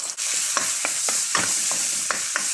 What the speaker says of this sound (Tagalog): Lagyan na natin ating tomato paste.